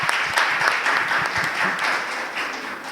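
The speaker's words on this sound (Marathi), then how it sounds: "जोरदार टाळ्या झाल्या पाहिजे" Steady audience applause at a Holi comedy poetry gathering in Akola, a dense wash of many hands clapping at moderate loudness throughout, without speech.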